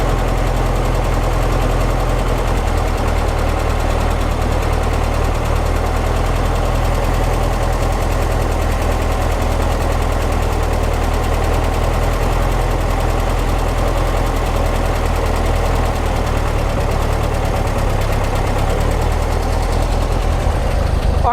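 Speedster engine idling steadily right after its carburetors have been adjusted, a constant low rumble with slight rough knocking and vibration, close and alone throughout without any talk.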